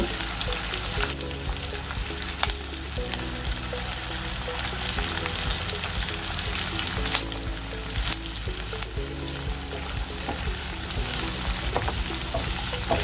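Finely chopped garlic fries in oil with a continuous crackling sizzle and occasional stirring scrapes, loud and close.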